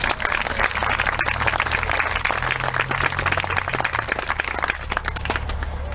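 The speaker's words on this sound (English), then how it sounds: "Please let's give them all another wonderful round of applause." An outdoor crowd gives a round of applause at an Appalachian Trail Community celebration, a dense, continuous burst of clapping held for several seconds over a low background rumble, with no talk.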